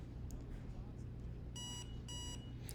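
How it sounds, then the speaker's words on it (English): An Energrid USB-C battery pack in sound mode gives two short, bright electronic beeps in quick succession, faint against a low background hum. "that's a beep"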